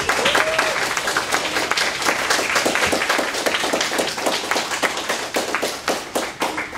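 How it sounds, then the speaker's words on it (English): A crowd of students and guests applauds at a young men's event, sustained dense clapping with sharp individual claps standing out, loud and even from start to finish. "another applause, please"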